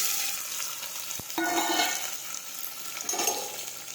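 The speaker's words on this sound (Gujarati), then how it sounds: "હવે આપણે સાતળી લઈશું." Chopped cluster beans sautéing in hot oil with mustard seeds, cumin and asafoetida in a home kitchen, a steady close sizzle with a stirring scrape or two and no talk.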